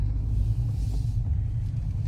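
Steady low car engine rumble from inside a vehicle creeping through a Starbucks drive-thru lane in Canada, continuous and close with no talking.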